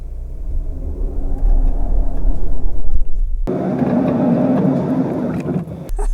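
A Ford Explorer straining as its right front wheel loses grip and spins during a road test, a loud low engine rumble that surges midway, with no talk.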